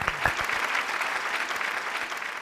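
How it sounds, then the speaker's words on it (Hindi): A studio audience on a couples' TV show gives a short round of steady applause, moderately loud and sustained, with no talk over it. "चलिए तालियां"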